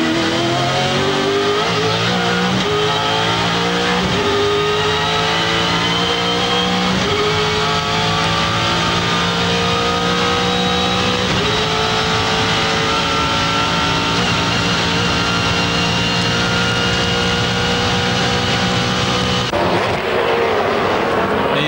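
The Castrol Ford Falcon V8 race car, a 5.0-litre touring car at the 1997 Bathurst 1000, screams loudly in an onboard recording at high speed, its engine note rising steadily through the gears with brief dips at each shift.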